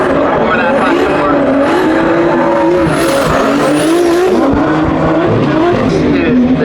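A drift car at the Tullyroan Drift Oval skids through a launch with sustained tire squeal and a roaring, wavering engine, loud and continuous, with a commentator talking over it.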